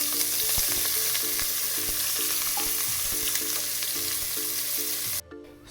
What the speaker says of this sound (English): then you're going to fry up the jalapenos in that